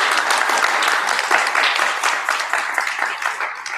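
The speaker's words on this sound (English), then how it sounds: "So I think that deserves a huge round of applause." Audience applause at a live flute harvest gathering, a dense steady wash of many hands clapping for nearly four seconds, loud and sustained before easing slightly toward the end.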